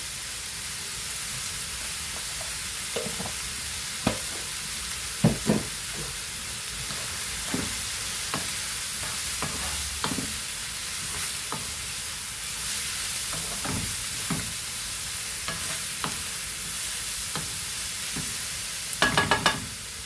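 Bombay duck fish frying in a pan with a steady, soft sizzle running throughout, broken by occasional clinks and stirring taps, with a brief cluster of louder scrapes near the end; no one speaks.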